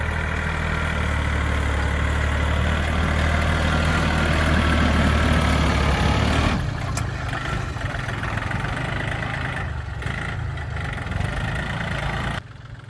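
A tractor engine idles steadily with a constant low rumble while plowing raised ridges for planting cassava in a field near a house, close and continuous, its tone shifting slightly partway through.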